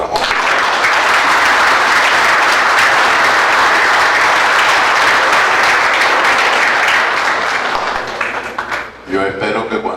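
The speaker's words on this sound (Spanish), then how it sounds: "Un aplauso para Monseñor." An audience at a 60th anniversary event applauds a monsignor with loud, dense, sustained clapping that fills the room, then tapers off near the end as a voice begins speaking.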